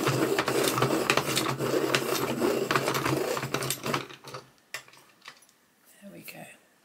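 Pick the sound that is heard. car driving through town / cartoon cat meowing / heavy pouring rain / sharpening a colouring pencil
sharpening a colouring pencil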